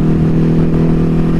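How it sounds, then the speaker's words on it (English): A 2022 Ducati HyperMotard 950 SP running with the exhaust baffles out gives a loud, steady, deep exhaust drone, heard close from the rider's position with no voices. "the exhaust sound is nice."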